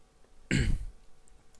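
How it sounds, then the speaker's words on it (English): Someone clears their throat once, a short, rough, close burst that stands out against a quiet room with no talking. "Sorry about me clearing my throat there."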